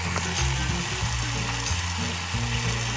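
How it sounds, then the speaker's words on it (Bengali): Spices fry with vegetables in a pan for a fish curry, giving a dense, even sizzle close by with gentle stirring scrapes throughout and no speech. "এবার আস্তে আস্তে মশলাটা কষিয়ে নেওয়া হবে সবজির সাথে দিয়ে দেওয়া হলো"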